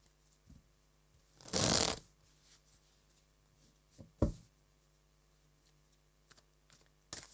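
Tarot cards being shuffled for a reading: one loud riffle burst near the start, then a few short soft card snaps and taps in a quiet room.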